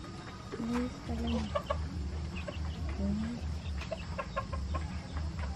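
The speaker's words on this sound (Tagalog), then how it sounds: "Anong tawag mo dyan? Labuyo." Red junglefowl rooster on a Philippine farm giving several short clucks and calls over a steady background hum, with other faint chirps nearby.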